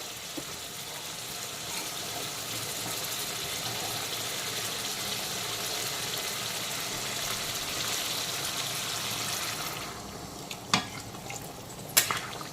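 A wok of sautéed ridge gourd hisses steadily as hot water is added; the sizzle fades toward the end, leaving a couple of sharp utensil knocks.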